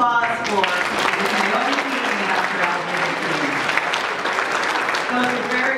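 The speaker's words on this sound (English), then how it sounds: "Let's talk about another round of applause for us." Audience applause fills a youth empowerment gala and awards event: dense, steady clapping from a crowd that lasts the whole stretch, with a voice speaking over it.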